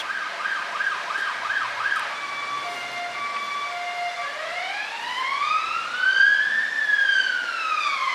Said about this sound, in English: ambulance here going past.